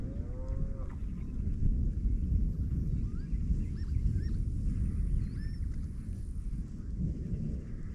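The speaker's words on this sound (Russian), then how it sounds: "Опять гром начался, дождь капает потихоньку." Thunder rumbles beside the Ili River during light rain while someone fishes. A low, continuous roll fills the air, with faint bird chirps above it.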